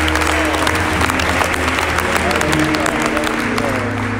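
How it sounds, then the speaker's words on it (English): Congregation in a church clapping together in worship, a loud, dense wash of hand claps filling the whole stretch, with an organ or sustained music tones underneath. "give him a hand clap of worship"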